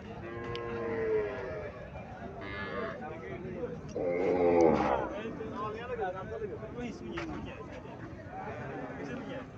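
Cows low and moo a few times at close range, including a Friesian cow, mixed with other farm animal calls while a person talks over them.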